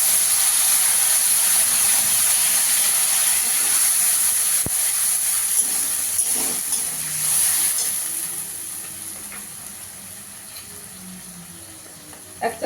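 Ground tomato paste hits a hot pan and sends up a loud, continuous steamy hiss that fades gradually toward the end, with no voices over it.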